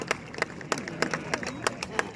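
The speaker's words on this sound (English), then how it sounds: "that's my wife clapping right now" A woman clapping in the audience at an Air Force airman graduation ceremony, sharp evenly spaced hand claps about three per second, close and distinct over a faint murmuring crowd.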